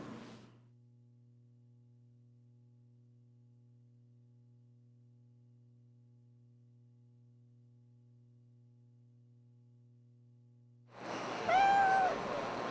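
A cat on a homestead meows near the end, a single drawn-out, close meow after long near-silence with only a faint steady hum.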